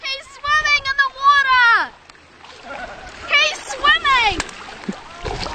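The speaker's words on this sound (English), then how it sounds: "He's in the water. You crazy cat." A Bengal cat swims and splashes in warm water, with loud splashing bursts around high-pitched voices, including a child's, heard close by.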